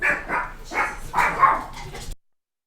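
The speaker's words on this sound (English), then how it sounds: "I think UPS came to the door and the dog goes crazy." A house dog barks in a burst of about five sharp woofs at a package delivery at the front door, close and loud, then abruptly cut to silence.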